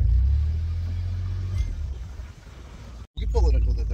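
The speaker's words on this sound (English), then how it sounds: "you get to ride in a DeLorean" DeLorean car engine idling as a steady low rumble for a couple of seconds, then fading under nearby voices and handling noise before a brief cutoff, with people talking throughout.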